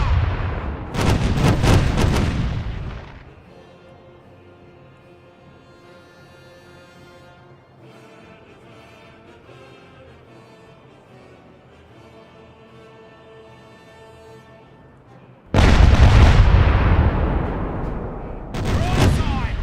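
Ship cannon broadsides in the pirate game Caribbean Legend: a loud burst of booming shots at the start, a quieter stretch of music, then another heavy volley near the end.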